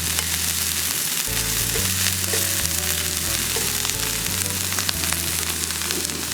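Food sizzling and frying steadily in a hot pan for a copycat 'Ohana noodle dish, a loud continuous crackle with a low hum underneath and no talking.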